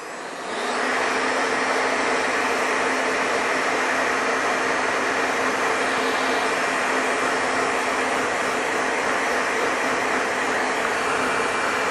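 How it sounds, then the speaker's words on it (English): A hair dryer switches on and blows steadily, a loud, even rushing whoosh with a low hum underneath that holds constant throughout. "I'm just going to get a hairdryer out because it just speeds the process up."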